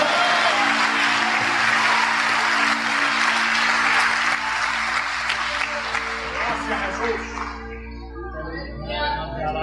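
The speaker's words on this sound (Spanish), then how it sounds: "Denle un aplauso al Señor Jesucristo." Loud, sustained applause from a large church audience over a low musical hum, gradually fading out as a voice begins speaking.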